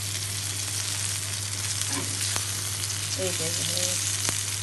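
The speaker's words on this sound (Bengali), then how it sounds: "বেগুন ভাজি হচ্ছে রুটির সাথে খাওয়ার জন্য" Eggplant slices for roti fry in a pan with a steady, close hiss and sizzle that runs throughout, while someone speaks a couple of brief words over it.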